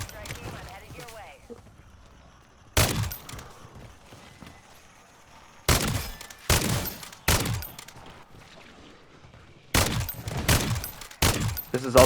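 Gunfire in Modern Warfare Zombies as a player shoots zombies: loud bursts of shots in separate clusters, with quieter game sounds between them and no speech.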